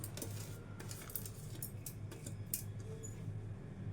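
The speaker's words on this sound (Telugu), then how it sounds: "ఇప్పుడైతే ఒక మిక్సీ జార్ తీసేసుకొని ఇవి వేసేసుకుందాం" Roasted lentils and dried chillies are tipped into a steel mixer jar, producing light scattered clinks and rattles with several sharp taps against the metal, fairly close and moderately quiet.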